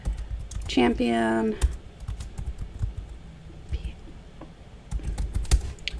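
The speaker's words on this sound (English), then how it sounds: "I'm going to type out Grand" Typing on a computer keyboard gives a run of close, irregular key clicks, broken at the start by a brief rising tonal sound and overlapping with a man's speech.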